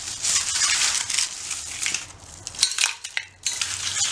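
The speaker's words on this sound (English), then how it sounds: "we're done grinding this eggshell" Eggshells being ground for homemade fertilizer, a steady gritty crushing and scraping that runs almost without pause, then breaks into a few harder crunches and clicks near the end; close and fairly loud, no talking.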